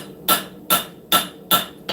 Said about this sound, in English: Those are going to be planishing blows.